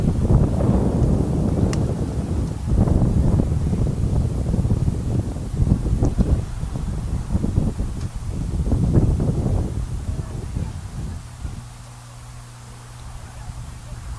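Wind buffeting the microphone at an outdoor high school boys' soccer match: steady low rumbling gusts that run loud and continuous, easing toward the end.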